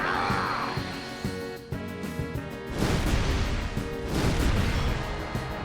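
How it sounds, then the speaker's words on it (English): Fire Breath attack in Final Fantasy X: a roaring, crackling whoosh of flame with layered booming bursts, swelling loudly in waves over game music. "Let's use Fire Breath."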